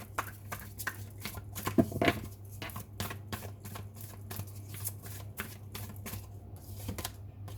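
Tarot cards riffled and drawn from a deck in a quiet room, a steady run of quick papery flicks and soft slaps over a low constant hum.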